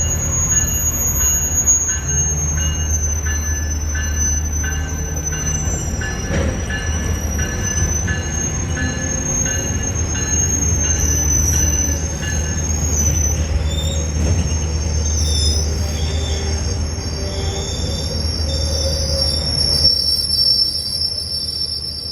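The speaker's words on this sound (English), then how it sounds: "And there's the train going, making all stops" A train rumbles past close by, with steady low rolling noise and high metallic wheel squeals running throughout.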